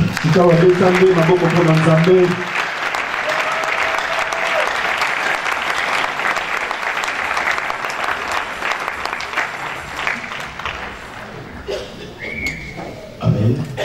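A church congregation applauds the Lord in a sustained burst of clapping and cheering that fills the room, opening over a brief musical passage and continuing steadily with scattered voices and whistles.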